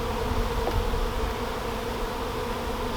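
Honeybees buzzing steadily around an open hive during an early-season inspection, a dense, continuous drone close by with no voices.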